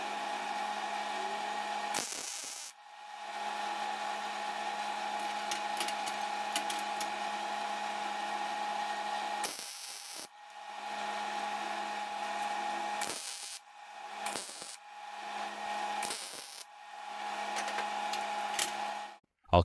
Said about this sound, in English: Now I can proceed to weld.